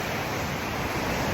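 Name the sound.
wild ocean waves on island shore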